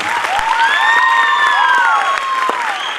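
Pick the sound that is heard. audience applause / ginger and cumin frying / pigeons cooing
audience applause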